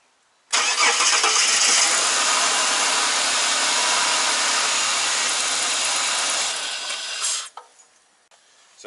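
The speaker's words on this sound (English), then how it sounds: "you just start the car and make sure it's running" A Ford BA Falcon six-cylinder engine cranks and catches, then settles into a loud, steady idle for several seconds before cutting off abruptly.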